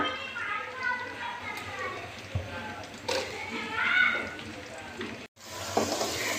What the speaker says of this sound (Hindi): इसको हल्का सा फ्राई करके फिर हम अपनी प्याज डाल देंगे।